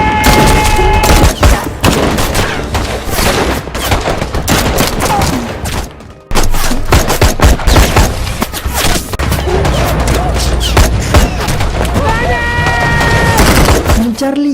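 Loud, dense gunfire from a battle scene in the Indonesian film Takluk Lahad Datu, a clash with Sulu militants: sustained bursts of shots and booms with a brief break midway.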